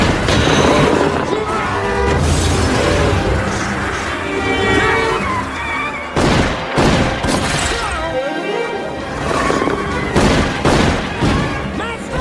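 Gunfire in a police action film scene where two officers are shot: dense, loud volleys of shots and booms crash through a busy soundtrack mix, with sharper isolated bursts toward the end.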